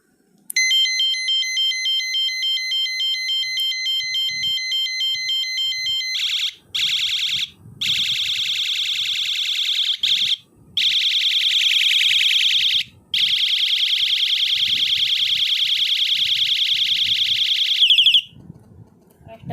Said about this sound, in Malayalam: കണ്ടോ, ഓരോ ഹോൺ ചേഞ്ച് ആയി വരും.